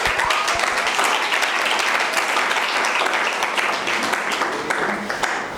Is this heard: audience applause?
yes